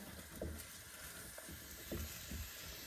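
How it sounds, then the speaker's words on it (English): Onions and garlic simmer in a pan with a steady sizzle, soft crackles and a few gentle low bumps, close and continuous, with no voices. "Let that simmer."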